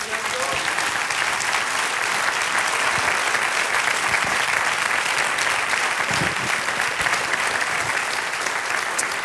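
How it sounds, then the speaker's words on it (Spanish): A church congregation applauds during a Spanish-language sermon, sustained crowded clapping that fills the room evenly and stays loud throughout, with faint voices mixed in. "Dale un aplauso al Señor."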